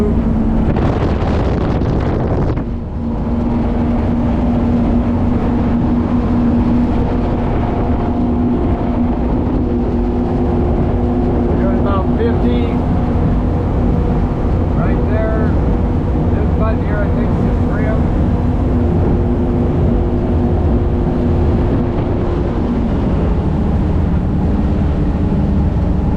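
A Tige 24 ski boat's engine runs at full throttle on the water with cool manifolds, a loud steady roar with wind buffeting that continues throughout, with a voice speaking over it.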